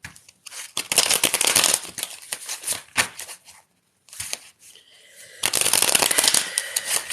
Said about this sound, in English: Just going to give it a shuffle.